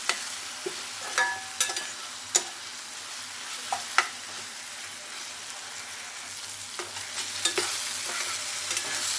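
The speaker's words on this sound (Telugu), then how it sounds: "ఇప్పుడు కొంచెం అల్లం వెల్లుల్లి పేస్ట్ వేస్తున్నాం ఇది పచ్చివాసన పోయేదాకా ఇట్లా వేగాలన్నమాట" Ginger garlic paste sizzles in a pan while being stirred, with a soft steady fry punctuated by sharp scraping clicks of the spoon at irregular intervals.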